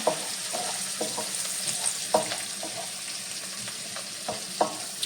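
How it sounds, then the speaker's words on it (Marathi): Onion sautéing in a pan for plain upma, a soft steady sizzle under periodic scraping stirs of a spoon against the pan, close and moderately quiet, with no talk. "हा परतून घ्यायचा आहे"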